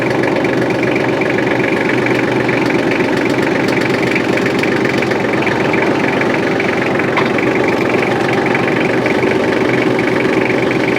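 A tractor engine runs steadily at low speed while reversing in its lowest gear to hook up a drum hay mower, a loud, continuous close-up rumble with a throbbing mechanical pulse and no pauses.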